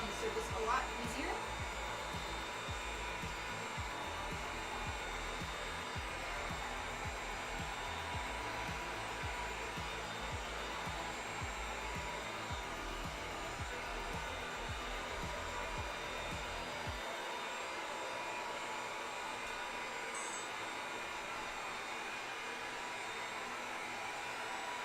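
A heat gun blows steadily on black craft foam, heat treating its surface; a continuous airy roar with a low rumble holds close and loud throughout, the low end dropping away near the end.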